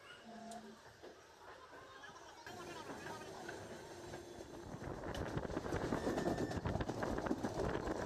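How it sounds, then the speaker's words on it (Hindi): The Seemanchal Express 12488 passenger train, running from Delhi to Purnia after leaving Anand Vihar station, rolls along the rails with a rumbling clatter that grows steadily louder, while faint chatter sits underneath. "ट्रेन जो है वो आनंद विहार रेलवे स्टेशन से जो है चल चुका है"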